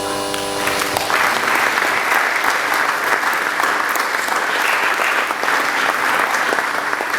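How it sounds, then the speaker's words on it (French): A conference audience in Kinshasa applauds a travel agency representative, a dense, sustained burst of clapping that swells after a brief voice at the start and carries on evenly and loud. "Si vous pouvez se mettre debout sous vos applaudissements"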